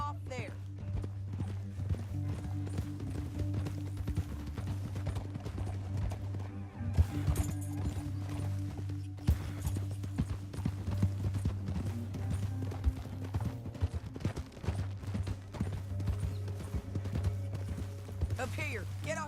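Steady clip-clop of horse hooves trotting in Red Dead Redemption 2, with a low rumbling background and occasional snorts throughout.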